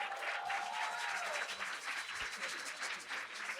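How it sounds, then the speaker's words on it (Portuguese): A studio audience applauds three women being welcomed onto a talk show stage, a sustained mid-level patter of clapping with some crowd murmur beneath it. "vamos dar uma salva de palmas"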